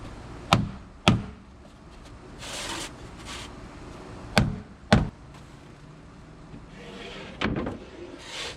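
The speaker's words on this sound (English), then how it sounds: "I've got this piece of board here, and I've got this Ford wrench, and I'm just going to hit it" A Ford wrench strikes a wooden board to flatten it, giving several sharp, close knocks in irregular pairs separated by quiet stretches and faint handling noise.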